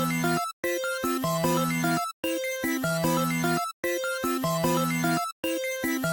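A synth chord one-shot sample from a Chrome Kids pack, triggered repeatedly in an FL Studio beat: sustained bright chords restart in a steady loop with short silent gaps, loud and close with no voice.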